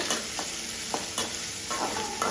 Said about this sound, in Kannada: ಈರುಳ್ಳಿನ ಚೆನ್ನಾಗಿ ಬಾಡಿಸ್ಕೊಂಡು ಗೋಲ್ಡನ್ ಬ್ರೌನ್ ಬರೋವರೆಗೂ ಫ್ರೈ ಮಾಡ್ಕೊಳ್ಳಿ